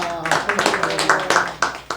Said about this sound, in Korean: 우리 우렁찬 박수로 우리 대표이사님 모시겠습니다